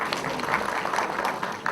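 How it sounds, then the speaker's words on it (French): Audience at an association's general assembly applauding a volunteer, a dense steady patter of clapping from a roomful of people, fairly close and moderately loud. "On va applaudir pour lui."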